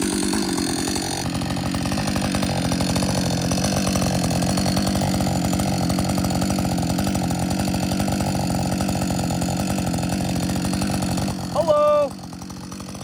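A repaired chainsaw runs steadily at a loud, constant idle-to-mid drone throughout, with a brief change in pitch near the end.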